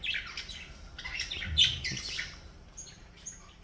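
Caged budgies give soft chirps, squawks and brief tweets, scattered and fairly faint, with light shuffling in between.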